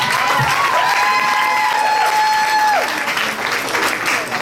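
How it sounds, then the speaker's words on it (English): Loud crowd applause and cheering at a tribute concert fill the clip, with a sustained whistle or squeal over the noise and voices shouting within it. "Please make some loud applause for the triumphant return of Mr. Ryan on bass guitar, please."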